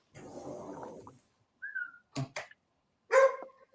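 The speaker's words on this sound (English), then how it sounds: "I have to get my dog because they're barking outside." A pet dog outdoors gives a few separate barks and yelps, with a short whistle-like whine between them and a rough noisy stretch at the start, moderately close with silent gaps.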